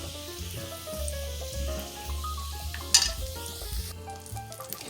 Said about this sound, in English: in a pan over medium heat, we're going to put in our 2 tablespoons of olive oil